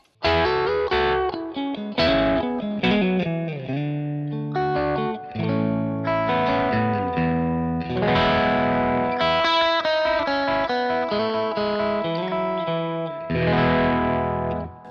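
Electric guitar with a drive tone through a Kemper Profiler, gain set around 5 and volume at 8: a continuous run of distorted single notes and chords with chorus-like shimmer and reverb, played alone with no talking.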